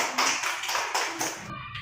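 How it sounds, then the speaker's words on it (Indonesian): Students in a classroom clap for a discussion group, a brief ragged burst of many hands at close range that cuts off abruptly. "kita beri tepuk tangan dulu untuk kelompok 1"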